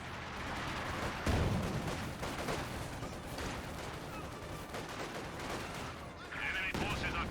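MG-34 machine gun fire in the game Company of Heroes 2, dense bursts of gunfire amid rumbling battle noise and explosions, with someone talking over the top throughout.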